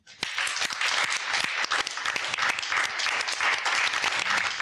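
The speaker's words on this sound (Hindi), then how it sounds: "तालियां हो जाए सीता देवी और टीम बालिका के लिए" A studio audience on a Doordarshan television show applauds, dense continuous clapping starting abruptly and holding loud and steady for several seconds.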